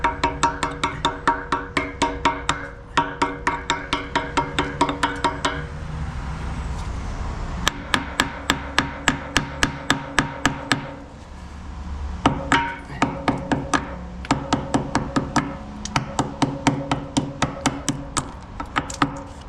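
Pointed ball-peen style hammer chipping old hardened concrete off a metal pump: rapid, sharp repeated metallic taps in steady bursts with brief pauses, close and loud, no talking.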